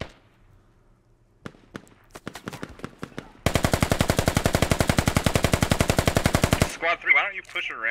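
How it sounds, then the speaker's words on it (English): Gunfire from soldiers defending a river-crossing bridge against attacking militia in the video game Squad: a few scattered single shots, then a loud sustained burst of rapid automatic fire, followed by echoing reports. "Soldiers, so to speak, firing at the attacking militia."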